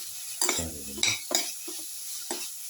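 A spoon stirs coriander powder and mixed spice into a sizzling garlic egg tomato casserole in a pan. Several scraping stir strokes sound close over a soft, steady frying hiss.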